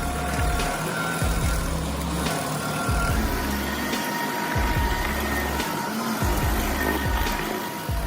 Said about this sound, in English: The Rayco RG80 revolutionizes land clearing with its high-torque engine and precision cutting head, tackling even the toughest stumps with ease.